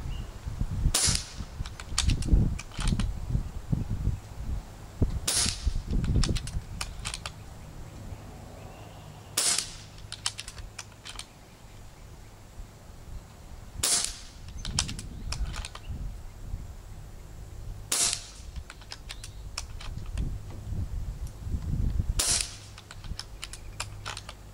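Marauder carbine air rifle, a PCP gun with an 8-inch air chamber, firing a series of sharp, close shots spaced several seconds apart, each a crisp crack with faint handling and mechanical clicks between them.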